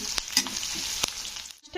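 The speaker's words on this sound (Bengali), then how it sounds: "পেঁয়াজটাকে একটু হালকা ব্রাউন করে ভেজে নিতে হবে" Onions frying in a pan until light brown, a steady close sizzle with a few sharp spatula scrapes and clinks from stirring, fading briefly near the end.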